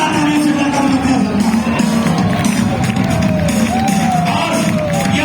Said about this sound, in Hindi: एक बार खड़ा होकर जोरदार तालियों से वेलकम करते हैं।